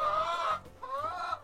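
Spent laying hens from an organic flock cluck nearby in two short, close bursts of throaty, wavering calls, with no voices.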